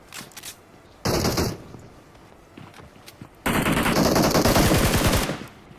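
Rapid bursts of AMR gunfire in a shooter video game, a short volley followed after a pause by a longer sustained automatic stream, loud and close.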